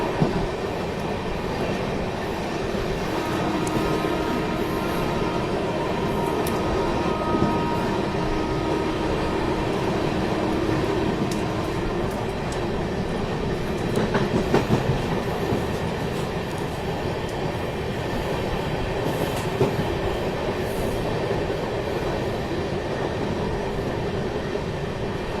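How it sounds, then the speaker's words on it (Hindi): A train rolls slowly through Chunar junction without stopping, giving a long, steady rumble with faint wheel clicks and occasional squeals. "धीमी रफ्तार में जो है चुनार जंक्शन का स्किप हुआ।"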